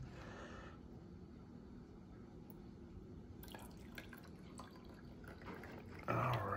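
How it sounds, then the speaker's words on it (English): Warm water is poured carefully into a small glass baby jar for a heat-transfer experiment, giving quiet, faint trickling and dripping in a hushed room, with a sharper splash near the end. "be very careful with our warm water and we're gonna put it into the baby jar"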